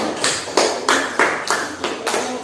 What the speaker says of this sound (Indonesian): Yang pintar, ayo kasih tepuk tangan.